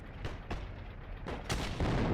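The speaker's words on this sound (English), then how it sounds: "Oh yeah, this makes a much larger explosion." Bazooka rounds with explosive ammo blast in the online war game Heroes & Generals, several loud booming detonations in quick succession over continuous rumbling battle noise.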